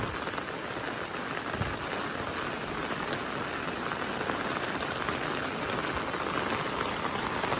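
Heavy storm rain pours down steadily, a dense, constant hiss of drops on surfaces with no pauses, close and enveloping, with no voices.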